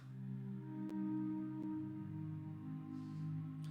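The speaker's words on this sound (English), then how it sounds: "I then layered it with this pad from Omnisphere called Heaven's Shores." A soft, sustained synth pad from Omnisphere's Heaven's Shores patch, layered into a beat: a warm held chord drones evenly with a faint airy shimmer and no percussion.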